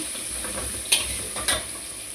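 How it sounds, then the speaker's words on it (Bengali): Tomatoes with turmeric frying slowly in oil, a steady close sizzle with two sharp utensil clinks against the pan, no voices. "এই টমাটোগুলো দিয়ে দিলাম ছোটো রাখা টমাটোগুলো ছোটো মাথাগুলো এবার আমি আস্তে আস্তে ভেজে নেবো"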